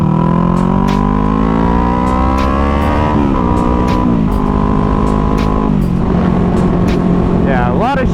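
A starter motorcycle engine revs loudly up close, a dense, steady roar whose pitch climbs and drops in several distinct steps over about eight seconds.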